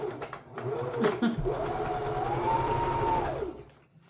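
A sewing machine stitches a robe with a steady, close mechanical whir that rises and then slows to a stop near the end.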